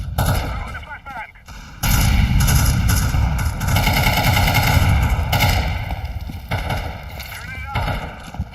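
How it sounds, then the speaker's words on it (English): A flashbang grenade detonates in Counter-Strike 2 amid dense, loud game combat: sustained blasts and gunfire-like crackle fill the clip after a brief quieter opening. "Throwing a flashbang."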